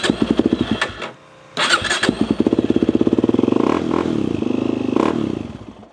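A Kawasaki Z400 quad engine runs close by with a rapid, lumpy firing rhythm. It dips briefly, then picks up again under a blip of throttle and settles into a steady, rough idle.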